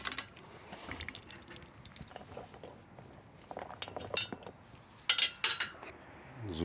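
A waterproof emergency equipment box holding tools, a flashlight and a compass is opened aboard a small boat, with scattered light clicks and metallic clinks of latches and contents, ending in a few sharper snaps.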